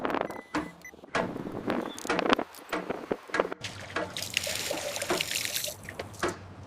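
Water runs into a limestone pool basin with a blue interior and black edge, trickling and splashing irregularly, close by, with intermittent stronger gushes and a steadier pouring flow toward the end.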